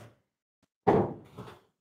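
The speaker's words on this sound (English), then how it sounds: "Let me get in this drawer right here." A drawer is pulled open in one quick, close sliding scrape, followed by a short second rattle as it settles, with silence around it.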